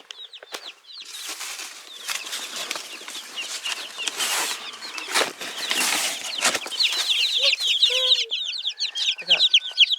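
Newly bought chicks, Speckled Sussex, Ameraucana and Buff, peeping in a dense high-pitched chorus of rapid chirps alongside rustling and fluttering, close and continuous.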